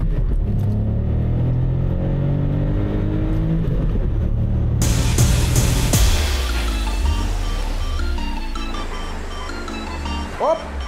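A BMW 750Li works through a turn as it slides out, its engine note rising and falling in strong harmonic sweeps, with a brighter burst of road and tyre noise midway and a low steady drone after.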